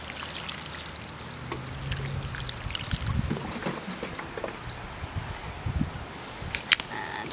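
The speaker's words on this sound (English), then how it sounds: "Really soaking that compost." Water is poured onto compost in a chilli pot at an allotment, a close, soft splashing and trickling that runs steadily, with a few brief sharper splashes.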